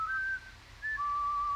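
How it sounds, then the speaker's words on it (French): A character in the Incredibox Sprunki mod game whistles a short tune of a few steady, clear notes, a brief dip midway, then a long held tone, loud and close with no talk over it. "Il siffle."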